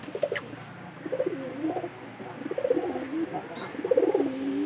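Pigeons, a female just put in with the others, coo in soft, repeated low phrases, several bursts of throaty cooing close by against a quiet background, with a faint chirp near the start.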